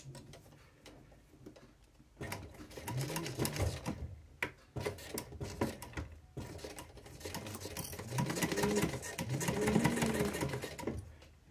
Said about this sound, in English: And then sew down the edge here.